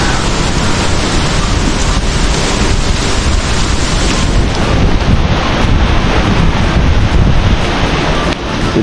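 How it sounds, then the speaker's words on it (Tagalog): Strong gusting wind in the aftermath of Typhoon Uwan, buffeting the microphone with loud, continuous roaring rumble that barely eases across several seconds, with no talking over it. "malakas pa rin po ang hangin"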